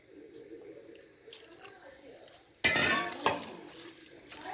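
Water sprinkled by hand into an onion vada mix for Kerala tea-shop style ulli vada lands in one sudden, close splash, followed by softer wet patting and stirring sounds.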